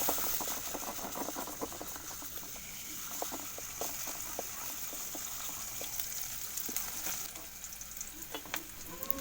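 Chopped garlic and onion sizzle steadily in hot soybean oil in a wok, a continuous crackling fry with scattered pops and light stirring taps throughout.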